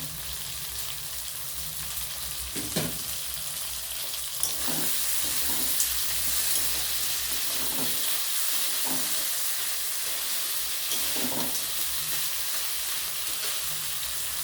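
A medium-sized chopped tomato and spices fry in a pan for a cabbage and crab dish, giving a steady close sizzle broken by a few scraping stirs, with no talking.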